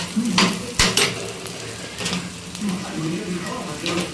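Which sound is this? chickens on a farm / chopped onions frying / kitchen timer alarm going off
chopped onions frying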